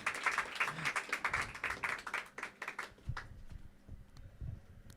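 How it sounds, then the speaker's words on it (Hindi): Live audience applause at an open mic event welcoming a performer to the stage, a dense burst of many hands clapping that gradually thins out and tapers over a few seconds. "तो ज़ोरदार तालियों से स्वागत करते हैं अनिमेश राजपूत का"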